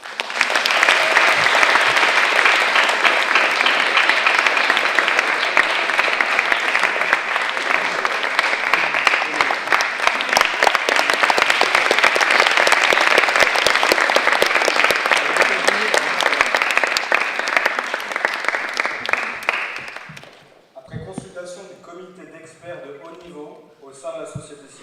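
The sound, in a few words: audience applauding award to Indian delegation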